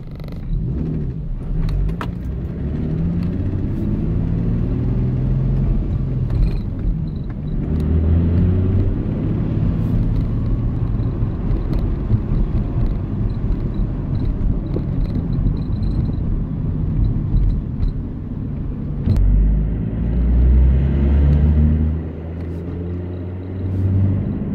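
An Infiniti G35 Coupe engine hums at a low, steady drone while driving, with road rumble and a few brief rises in revs, close and continuous without speech.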